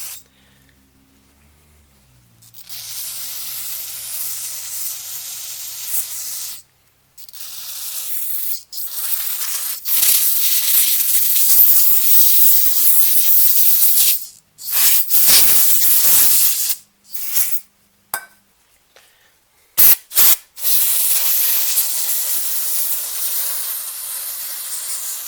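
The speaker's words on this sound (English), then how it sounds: "as I spray, you can see carburetor cleaner is flowing through it" Carburetor cleaner sprays through a Lifan 2.5 hp engine carburetor in close, loud hissing bursts of varying length, separated by short silent gaps.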